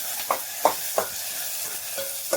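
Tomato dropped into hot oil in a home kitchen, with a steady sizzle and short stirring scrapes at intervals, close and moderately loud.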